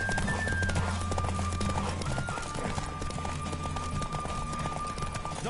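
A horse gallops hard in a race in The Witcher 3, with fast rhythmic hoofbeats and snorting over loud, dense music and game ambience that stay constant throughout.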